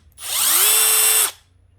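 A Milwaukee M12 cordless hammer drill in automatic mode whirs up in pitch, runs steadily at high speed for about a second, then stops abruptly.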